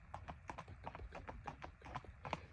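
A 2.5-year-old Tennessee Walking Horse colt, about 16 hands, moves in a racking gait, its hoofbeats landing in a quick, even four-beat clip-clop that stays steady and fairly close throughout, with no talking.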